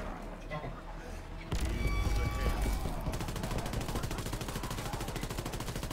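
Automatic gunfire mows down zombies in the game WWII Zombies, quiet at first, then bursting into loud, rapid machine-gun fire that settles into a steady, evenly spaced stream of shots while a player talks over it.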